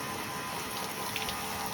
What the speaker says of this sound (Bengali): আমার কাছে গাছে জল দেওয়ার একটা রয়েছে সুন্দর, সেটা দিয়ে খুব ভালো আমি ওয়াশ করে নেবো এটাকে